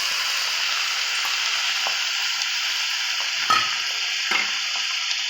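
Vegetables and eggplant hit a hot frying pan for a winter spinach and prawn curry, giving a steady, loud sizzling hiss with a few soft clinks of a spoon stirring.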